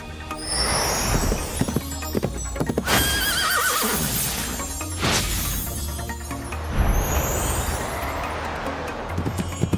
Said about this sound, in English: Thank you, Rainbow Sky Horse!